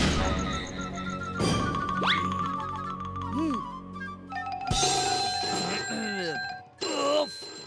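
A phone rings in a Hindi kids' cartoon, its bright electronic tones and chirps sounding over a busy, music-filled cartoon soundtrack with sliding effect sounds, while a voice speaks over it.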